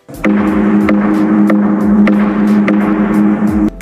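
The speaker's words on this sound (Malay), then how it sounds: "Kalau kita ketuk gong ni bunyi sebiji macam gong." A resonant metallic ringing tone repeats in regular strikes, about six hits, each bright attack sustaining into a steady hum like a struck gong, from a hanging stone being struck at Gua Sireh.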